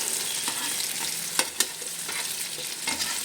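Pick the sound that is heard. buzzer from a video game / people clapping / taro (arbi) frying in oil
taro (arbi) frying in oil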